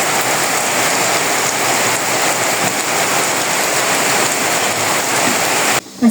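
Heavy rain pours down in a village, a loud, dense, steady hiss of drops drumming on surfaces that continues without a break until a brief cut near the end.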